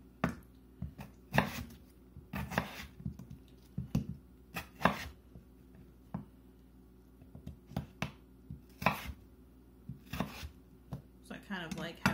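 Potatoes being sliced into pieces for oil-free fries, a series of crisp knife chops against a cutting board in uneven bursts, fairly close and quiet.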